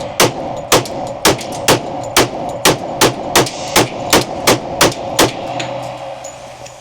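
Fifteen rapid shots from a Smith & Wesson M&P 10mm pistol loaded with 180 grain jacketed hollow point ammunition, fired in a steady, evenly spaced string with sharp, loud reports and no talking.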